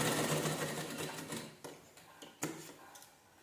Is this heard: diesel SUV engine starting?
no